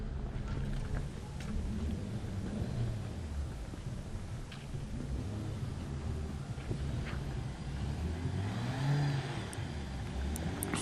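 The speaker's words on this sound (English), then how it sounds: "There's that car leaving, quite loud." A car pulls away from a kerb on a street in Lviv, Ukraine, its loud engine rising in pitch and sweeping past through steady low city traffic rumble.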